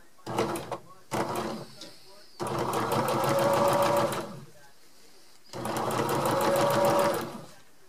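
Sewing machine stitching a quilt, two short bursts followed by two longer runs of fast, even whirring and clatter, separated by quiet pauses.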